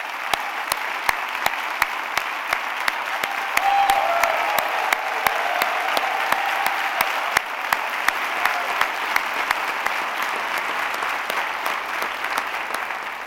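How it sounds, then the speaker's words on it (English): Sustained audience applause for Attorney General Eric Holder at a 50th anniversary event for the Civil Rights Act of 1964, with steady, dense clapping filling the hall and sharp individual claps standing out throughout. "please give another round of applause to our Attorney General, Eric Holder."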